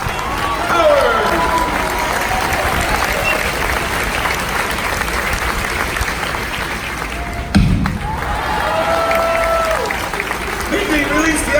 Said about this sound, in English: Keep the applause going for all of our brave and talented audience extras.